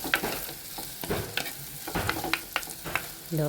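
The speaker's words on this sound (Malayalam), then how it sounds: "ഉള്ളി നന്നായി വഴറ്റിയെടുക്കേണ്ടതുണ്ട്." Chopped onions sauté in hot oil in a pan for a Kerala-style roasted-coconut chicken curry, giving a steady close sizzle broken by several scraping stirs of a spatula. No voices are heard.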